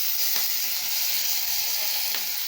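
Curry leaves sizzle in hot oil while cooking a yellow pumpkin sambar, giving a steady, loud, hissing crackle up close that carries on evenly, with a couple of brief sharper pops.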